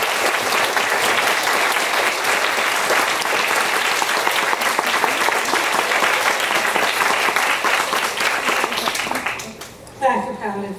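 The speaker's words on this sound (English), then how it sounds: "I don't like that applause. Let's hear some more." Sustained audience applause after a lecture fills the hall, dense steady clapping that fades near the end as a voice begins to speak.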